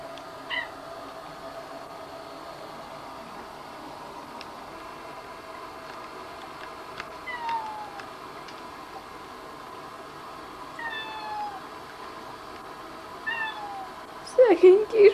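A small cat meows in short, faint calls around the middle of the clip, then louder near the end, over a steady hiss of background noise.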